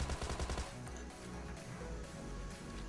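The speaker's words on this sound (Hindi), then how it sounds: "तभी इधर से फायर आता है" Gunfire in a battle royale video game's last zone fight, a burst of rapid shots at moderate level over a steady dense game background, with no talking.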